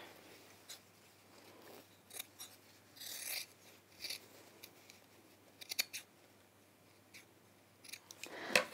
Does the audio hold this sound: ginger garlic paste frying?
no